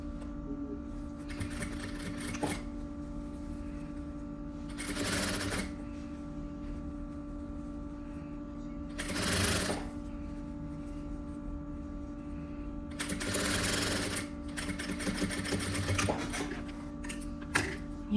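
A sewing machine stitches a seam on a boy's vest, running in several short bursts separated by pauses, close and fairly quiet over a steady background hum.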